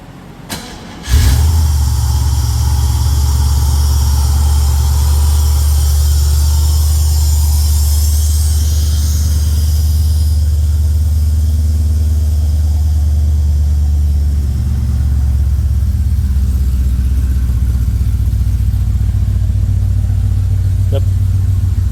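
A Holden VC Commodore with a newly installed shortened M78 differential cranks and fires after a second of quiet, then settles into a loud, steady, close idle with a deep rumble.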